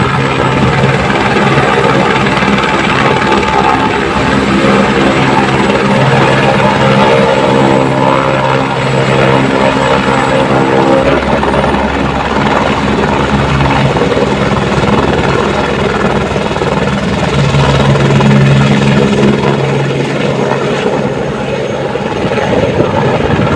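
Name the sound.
helicopter flying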